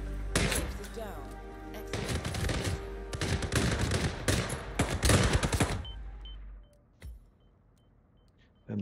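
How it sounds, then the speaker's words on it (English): Grenades exploding in the game HITMAN, a loud close burst of booming blasts and crackling debris lasting several seconds, then cutting to near silence with one last thump. "Then the grenades go off"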